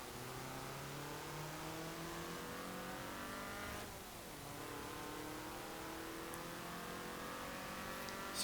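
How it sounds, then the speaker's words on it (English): A small Peel car engine roars and accelerates in Forza Horizon 4 racing, a steady buzzing engine note that dips briefly, then climbs again, heard faintly throughout. "the Peel is roaring off because it doesn't even need all that much power to be quick into the acceleration"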